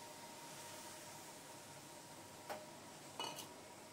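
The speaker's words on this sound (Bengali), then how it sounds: "এবার ভালো করে মিশিয়ে নিচ্ছি।" A spoon stirs a semolina sweet mixture with milk in a pan, giving a soft, steady scraping hiss with two brief metallic clinks near the end.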